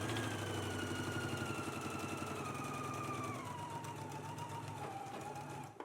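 A sewing machine runs steadily in a continuous buzzing stitch while reinforcing the curved underarm seam of a McCall's 8313 garment, close and fairly loud, its motor pitch sliding slightly lower, stopping abruptly at the end.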